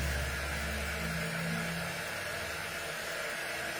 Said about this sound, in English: the COUTURE dryer is not as hot as some of the dryers normally are